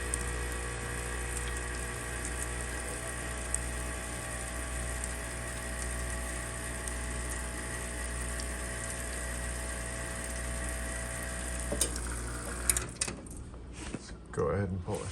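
A Quickmill Anita espresso machine purges water through the group head, a steady pump hum with running water that stops abruptly near the end, followed by a few clattering knocks.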